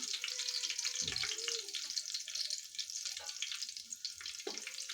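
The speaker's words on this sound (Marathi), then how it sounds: "आलं लसूण पेस्ट थोडीशी परतून घ्यायची आहे" Ginger garlic paste sautés in a pan with a faint, steady sizzle and hiss, broken by a few low knocks and brief tonal sounds in the background.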